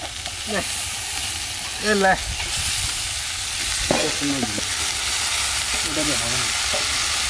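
Pumpkin hits a hot pan for an onion- and garlic-free curry with ginger, giving a steady broadband sizzle with stirring scrapes throughout and a few brief voices in the background.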